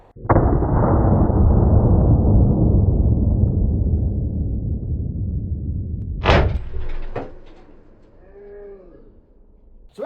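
A SIG 1911 pistol fires a single .45 ACP 230-grain jacketed hollow point round: one loud, close blast with a long decaying echo, then a few sharp metallic impacts and a short exclaimed voice.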